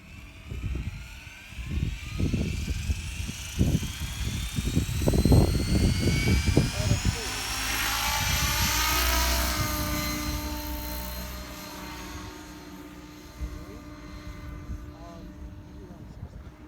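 A training helicopter flies a straight-in hovering autorotation with the throttle rolled to idle, its rotor and engine whine sweeping steadily in pitch, fairly close and continuous, while people talk over it.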